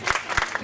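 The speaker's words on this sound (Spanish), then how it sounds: "un aplauso para la doctora" Brief audience applause at a lecture course, a few distinct claps heard up close in quick succession, short and moderately loud.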